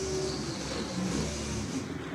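A 385-cubic-inch small-block Chevy in a 1958 Corvette drag car idles and rumbles loudly at a drag strip during a race day, a brief burst of engine noise with no clear voices over it.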